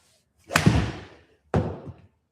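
Golf club striking a ball on a shot toward a green at Bay Hill: two distinct solid thuds about a second apart, each trailing off quickly, close and fairly quiet.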